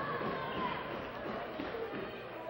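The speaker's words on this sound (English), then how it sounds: "Crowd coming to life too" A girls' basketball game crowd in a gym, 1982, gives a steady broadband roar of cheering and murmuring that fills the whole stretch without pause, with a commentator talking over it.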